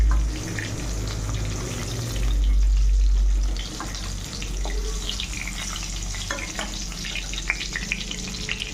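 Whole bitter gourds stuffed with filling fry in hot oil in a home kitchen, giving a continuous close sizzle with scattered spatters and stirring clinks over a low background hum.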